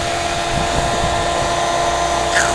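A radio-controlled AH-1 Cobra model helicopter's rotor spins at a steady whine and whir, loud and close, holding constant with no talk over it.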